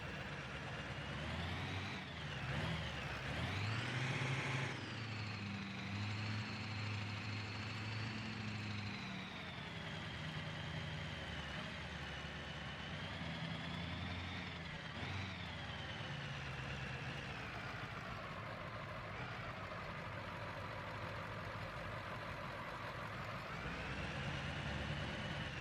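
A 1958 Chevy Apache tow truck engine in BeamNG Drive, a continuous droning run with wavering pitch that rises and dips over about twenty-five seconds, steady and fairly loud throughout.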